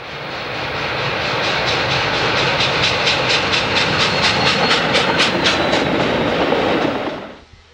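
Union Pacific 844 steam locomotive in black livery approaching Chester, Illinois, a loud rushing roar that swells in over the first second, with rapid rhythmic chuffing and rail clatter before cutting off abruptly near the end.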